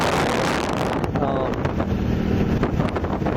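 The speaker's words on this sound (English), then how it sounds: "Oh god, it's a bit windy." Strong wind during a motorcycle ride in Yangpyeong, Korea roars across the microphone in a constant heavy rumble, with gusty buffeting throughout and faint voice-like fragments buried underneath.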